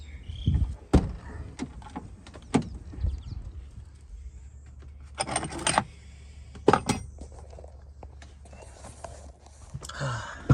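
Keys jangle close by in several quick metallic bursts, separated by quieter handling noises and soft thumps.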